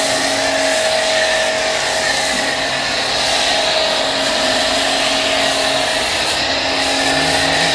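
A budget Neptune pressure washer with an underchassis attachment sprays water in a continuous loud hiss and whine, the pump motor's steady tonal hum running unbroken beneath the spray.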